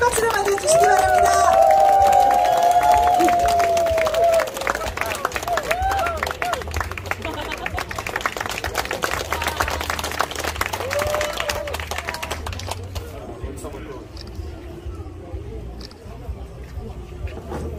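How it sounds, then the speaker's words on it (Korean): An outdoor festival audience applauding as the conductor of a saxophone wind orchestra is welcomed, a broad patter of clapping that starts loud with a voice over it, then tapers and thins toward the end. "멋진 지휘자님 안춘길 지휘자님 큰 박수로 맞아주시기 바랍니다."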